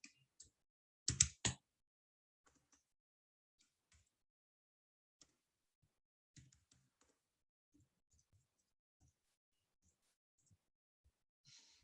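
A short, quick burst of key presses on a computer keyboard during a command-line session, then only scattered faint clicks over near silence.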